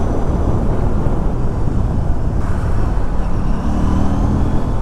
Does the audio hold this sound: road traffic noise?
yes